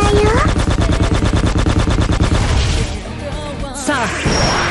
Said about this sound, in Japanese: ミルクちゃんの射撃だよ。